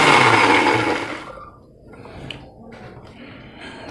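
An electric mixer grinder loudly whirring for about a second as it blends green chicken marinade paste with yogurt, then cutting off and leaving quiet room noise with faint handling sounds.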